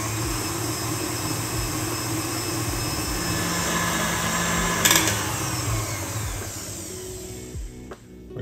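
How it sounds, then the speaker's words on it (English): An electric mixer whips pancake batter for Kodiak flapjacks in a home kitchen, a steady close whirring drone with a constant high whine, broken by a brief clatter near the end. "it's been whipping for about 1 or 2 minutes"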